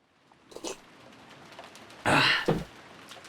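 A person gives a short choking cough and throat clearing, a faint rasp at first, then a loud burst with a second smaller catch right after, close and otherwise quiet.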